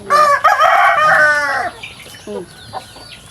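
Newly arrived chickens at feeding time: a loud, close rooster crow rings out first, then several short clucks follow.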